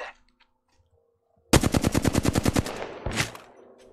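A rapid automatic weapon burst in Apex Legends, about a dozen sharp, evenly spaced shots fired close and loud after a near-silent pause, followed by a shorter second burst.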